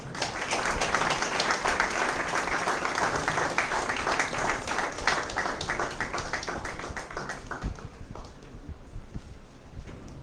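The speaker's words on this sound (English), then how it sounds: "Please have a big round of applause." Dense audience applause at an inaugural session, steady and loud clapping throughout, tapering slightly toward the end.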